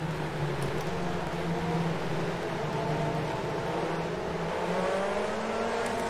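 Car lapping a race track in rFactor 2, with a steady engine drone that rises and falls as it shifts through gears, plus constant road and wind noise, heard without talk.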